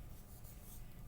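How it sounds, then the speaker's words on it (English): A pen or pencil scratches across paper while a math problem in scientific notation is written down, giving a faint, steady, close scribbling texture with no talking. "Again, I'm going to write the problem down."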